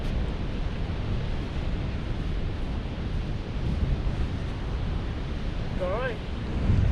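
Steady wind blows across an east coast beach at Tunstall on the Holderness coast, a constant roar mixed with surf and no distinct gusts, with a brief call rising near the end.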